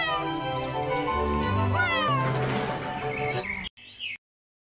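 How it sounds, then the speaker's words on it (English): A cartoon cat meows in a bright, drawn-out call with rising and falling pitch, loud and close over cheerful children's song music, ending in a short squeaky mew. "C for cat"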